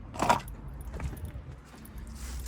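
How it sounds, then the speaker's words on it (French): Car keys jangle briefly and near at the start, then quieter rattles and handling noises follow while someone searches for them around a Chrysler PT Cruiser. "Laissez-moi trouver les clés."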